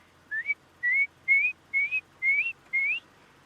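A human voice imitates the call of a red-crested korhaan with six short, clear ascending whistles, evenly spaced and close, with nothing else around them.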